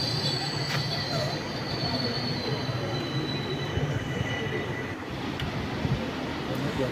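Inside a coach of the 16342 Guruvayur Intercity Express as it pulls into Ernakulam Junction: a continuous rumble of rolling wheels with thin, high-pitched squeals from the wheels against the rails, heard close up.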